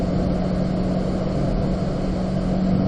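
A Corvette engine pulls steadily in fourth gear during a timed drive around a Las Vegas cone course, a loud, continuous in-car drone with a constant low hum and broadband road roar and no talking.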